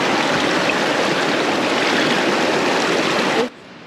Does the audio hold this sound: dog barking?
no